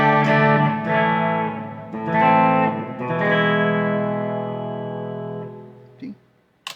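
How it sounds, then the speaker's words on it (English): Sustained chords on a Norse Odin Grail electric guitar ring out with lush reverb and echoing delay, each strum blooming and slowly decaying into a soft tail. "Let's go for the reverb and delay patch that I like."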